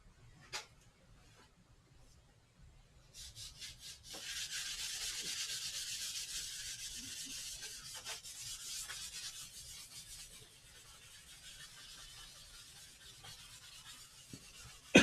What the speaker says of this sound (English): I also have a drill brush.